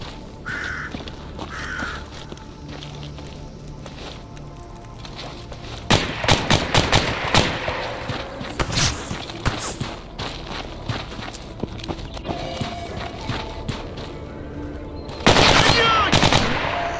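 Machine gun fire in a STALKER-like shooter game, sharp bursts of rapid shots arriving in clusters, with louder volleys near the end and footsteps and a crow's caw in the quieter stretches.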